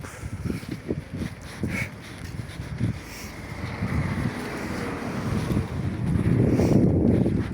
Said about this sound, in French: puis il y a du vent, ça va être horrible